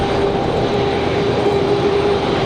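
Boeing 737-800 arriving from Miami on approach at Raleigh-Durham International, a steady broadband engine roar with a faint tonal whine, continuous and fairly loud throughout, no talk.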